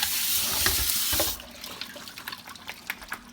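Kitchen tap water running into a sink over drained lasagna noodles, a loud steady rush for over a second, then quieter patters, drips and splashes.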